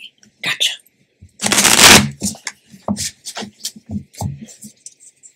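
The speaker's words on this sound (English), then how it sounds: "Oh, I'm going to shuffle first." Tarot cards are shuffled in a brief papery burst of riffling between soft handling taps, with a voice talking around it.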